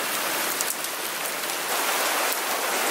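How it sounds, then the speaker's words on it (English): Hail falling outdoors near a backyard pool, a dense, continuous hiss of countless small impacts pattering steadily on surfaces, loud and close with no voices. "Oh my God, it's hailing!"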